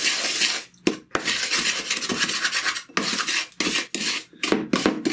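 Bread pudding ingredients are mixed in a bowl, a close, continuous rasping scrape of the utensil against the bowl in uneven strokes, with a few short pauses.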